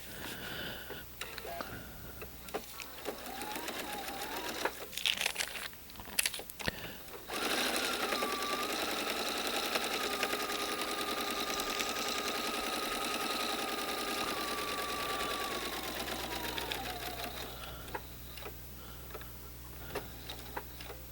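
A sewing machine stitching orange fabric hums steadily and continuously at close range after some early clicks and handling noises, holding one even tone for most of the stretch.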